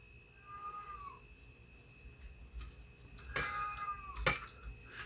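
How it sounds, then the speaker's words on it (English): A domestic cat meows in a few drawn-out, wavering calls, one early and a louder pair near the end, heard close by in a quiet room with light background clatter. "She's always meowing."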